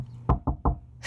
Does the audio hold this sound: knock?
yes